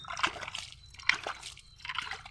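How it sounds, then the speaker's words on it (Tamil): Water is sprinkled onto freshly planted rose cuttings in soil, making soft splashes and trickles in three short bursts with quiet gaps between them. "இப்போ தண்ணி ஊற்றிக்கணும்"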